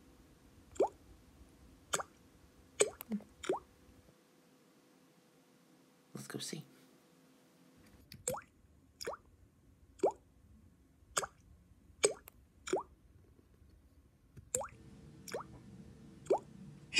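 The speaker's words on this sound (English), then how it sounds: "Listen, it's a drippy faucet." A dripping faucet lets fall single drops in a slow, irregular series of sharp plips, close and fairly quiet against a soft background hum, with a brief whisper-like voice in the middle.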